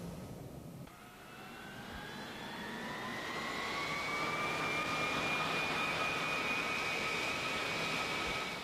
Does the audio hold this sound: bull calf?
no